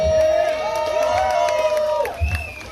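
A crowd at a San Francisco community appreciation event cheers with sustained whooping and shouting voices, with some clapping mixed in beneath.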